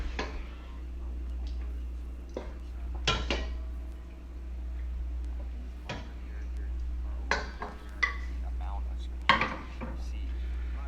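A spatula works melting butter around a pan, producing scattered scrapes and clinks over a constant low hum, with some quiet voices in the background.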